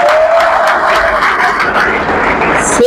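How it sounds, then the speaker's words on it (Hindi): Loud, unified applause from a prize-distribution audience fills the whole moment, dense and steady, with a brief whistle-like tone near the start and a sharp cutoff at the end. "टुकड़ों में नहीं, एक साथ बजाया करिए जोरदार।"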